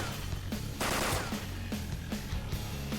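Gunfire in the Persona 5 Royal video game, a rhythmic series of punchy shots about every half second over a layered game soundtrack, with one longer burst near the start.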